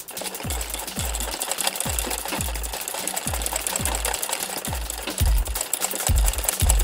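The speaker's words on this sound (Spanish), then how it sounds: "Que la máquina no quiere coser para este lado." A domestic sewing machine stitches an embroidery design in a hoop, running steadily with rapid, even needle thumps close by and loud, with no talking.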